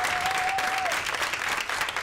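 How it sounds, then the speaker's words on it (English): Parents and educators at a packed school board budget meeting clap and cheer loudly in a dense, steady wash of applause, with a brief whistle rising above the crowd near the start. "Many parents and educators holding signs reading, "Cuts hurt kids," and cheering loudly"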